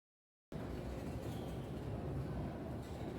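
After a moment of silence, a train's steady low rumble begins and holds constant, a continuous rolling drone heard from inside the carriage of London's Mail Rail, the former Post Office underground railway.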